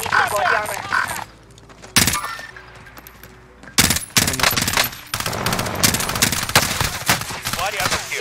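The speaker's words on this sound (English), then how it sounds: "I'm taking fire!" Incoming gunfire in Call of Duty Warzone: loud bursts of automatic fire and sharp impacts in several clusters, separated by short lulls, close and intense with game ambience underneath.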